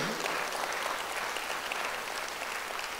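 A church congregation applauds during a Korean Sunday worship service, a dense, steady wash of many hands clapping together for about three seconds with no voices over it.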